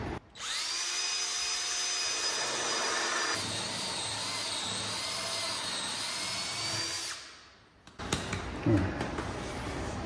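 A power drill with a Milwaukee bit whines steadily and loudly as it bores through a trailer and wood for about seven seconds. Its pitch shifts partway through, then it winds down into a few clunks and handling knocks.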